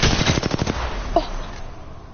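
Rapid bursts of video game gunfire crack out in a quick rattling string, then taper off into a quieter tail with one last brief pop, loud and close with no talking.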